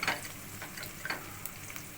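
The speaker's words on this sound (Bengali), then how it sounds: "এবার আমি পেঁয়াজ কুচিগুলোকে দিয়ে দেবো, দিয়ে আবার এটাকে ভাজবো।" Chopped onions frying with garlic in a pan give a quiet, continuous sizzle with faint crackles and occasional light ticks.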